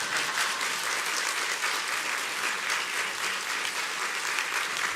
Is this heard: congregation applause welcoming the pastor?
yes